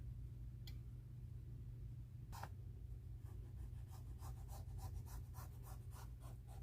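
A marker or pencil traces a sewing pattern onto fabric, making faint, close scratchy strokes that quicken into a rapid series of short rubs toward the end, no voices.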